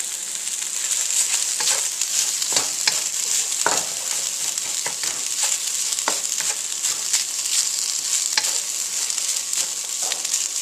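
Cold cooked rice stir-fried in a hot pan for a chicken stir-fry, a steady close sizzle and hiss broken by repeated scraping and tossing clatters of the spatula, no talk.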